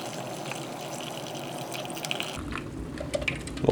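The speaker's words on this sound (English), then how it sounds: "Now we'll add water until it reaches the fill line." Water is poured into a freeze-dried MRE ration pouch up to its fill line, a steady trickling splash that grows busier and more gurgling toward the end.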